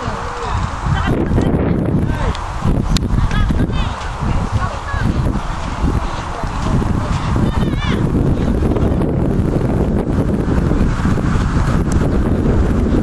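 Strong gusting wind buffets the microphone loudly and continuously on Talisayin Island, Zambales, near beach cottages and a tent, with faint voices and other background sounds mixed in.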